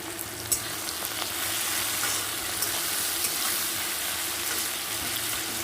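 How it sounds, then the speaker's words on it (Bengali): Onion and tomato fry in a pan, sprinkled with salt, giving a steady, close sizzle that crackles on alone with no talking. "তো এটাকে আমি সুন্দর করে আগে ভেজে নেব ভাজা হতে থাকুক"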